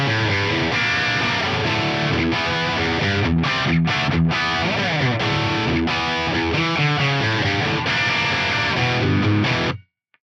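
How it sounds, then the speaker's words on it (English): Electric guitar played through a Friedman BE V2 amp model with a negative feedback tweak, giving dense distorted chugging riffs and chords with brief stops, loud and close, ending abruptly. "now we can have a listen to Friedman BE V2."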